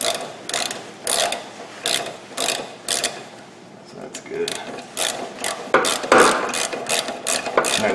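A thread tap is worked through a hole on a Jeep WJ front suspension, giving repeated rhythmic ratcheting clicks in bursts with short pauses, close and fairly loud.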